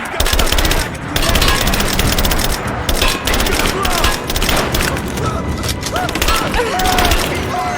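Sustained gunfire during an attack in the Rise of the Tomb Raider video game, with rapid automatic bursts, scattered shots and occasional booms that stay loud and dense throughout, mixed with game voices and effects.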